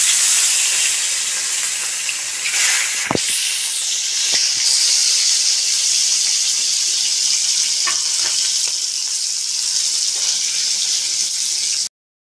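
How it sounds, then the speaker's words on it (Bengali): Fish hits hot mustard oil in a wok with a sharp burst, then settles into a loud, continuous hissing sizzle close by, cutting off abruptly at the end. "মাছ আমি কড়াইতে দিয়ে দিলাম"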